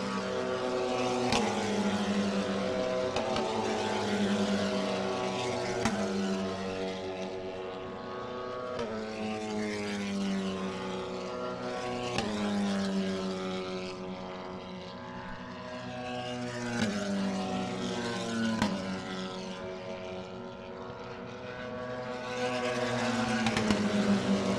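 Race cars at speed around the Barber Motorsports Park circuit, engine notes climbing and falling in repeated loud passes, one car after another sweeping by without let-up.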